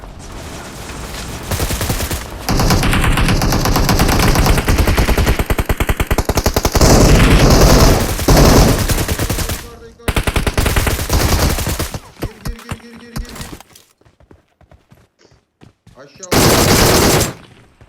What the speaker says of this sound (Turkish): Şu an bana sıkıyorlar.